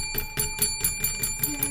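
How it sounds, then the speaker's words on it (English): A small hand bell rung as a makeshift doorbell at a house party, giving a steady series of about seven bright metallic dings with ringing overtones, close and clear, with no talking. "we'll use the little bell here as like a ding-dong bell"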